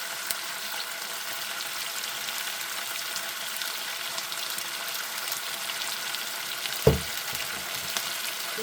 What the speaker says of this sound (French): je mets un peu de sauce de poisson